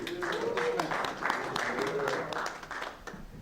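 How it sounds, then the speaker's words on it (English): Brief round of applause from attendees at a Veterans Affairs Advisory Committee meeting, moderate clapping lasting a few seconds with a voice audible over it. "Everybody give him a round of applause."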